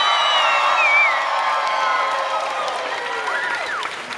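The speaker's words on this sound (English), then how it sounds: "big round of applause for Frederic" An audience aboard the cruise ship Enchantment of the Seas claps and cheers for Frederic, the executive chef, during a cake challenge, with a sustained crowd roar and rising whoops and whistles above it, loud and close, easing off near the end.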